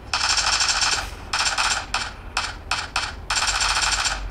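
Rapid bursts of AKM rifle fire in the PUBG Mobile video game, several loud automatic volleys broken by short gaps over a steady low background rumble.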